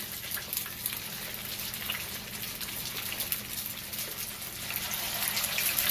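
Crab cakes set into hot oil over medium-high heat crackle and sizzle, a dense, close patter of pops that swells slightly louder toward the end, with no talking.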